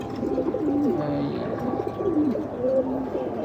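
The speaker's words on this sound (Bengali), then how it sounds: "এই যে আমার কবুতরটা, এরও মাদি একটা বাচ্চা কবুতর" A young female pigeon coos nearby, repeating soft, rolling calls several times in a short, close burst.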